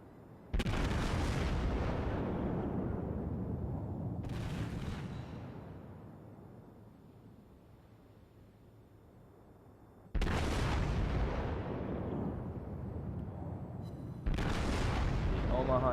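Heavy battleship guns of the Tier IV American Wyoming fire in a naval video game, four booming salvos with long rumbling decays between, loud and close.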